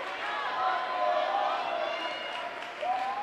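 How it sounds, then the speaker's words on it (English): A volleyball crowd cheers and applauds late in the fourth set of a match, a broad wash of voices swelling and settling, fairly close. "The crowd trying to get All Saints back in this one."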